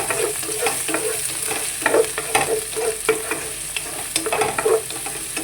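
Green chillies and onion frying in oil for a potato fenugreek sabji, a close, steady sizzle with repeated rhythmic scrapes and taps of a spatula stirring the pan.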